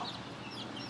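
A butcher sport breed gamecock gives soft, faint clucks against a quiet farmyard background, a short low-level burst of fowl sounds.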